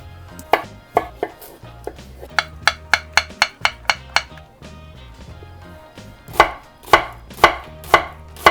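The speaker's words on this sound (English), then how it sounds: "half of a red onion that we're gonna thinly slice" A knife chops vegetables such as cucumber, red onion and cherry tomatoes on a cutting board with crisp, close knocks, first in scattered strokes, then a quick even run, then a slower series, with no talk.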